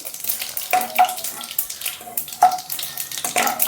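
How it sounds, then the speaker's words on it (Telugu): Mustard seeds hit hot oil for an Andhra-style brinjal fry and sputter in rapid crackling bursts, loud and close, sizzling in irregular waves. "ఆయిల్ కాగినాక ఆవాలు వేస్తానండి."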